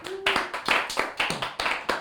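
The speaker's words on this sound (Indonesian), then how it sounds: "tim yang bertugas tepuk tangan buat kita, Des." A team claps in a podcast studio, with a handful of sharp, close claps in a loose, uneven rhythm and faint room sound between them.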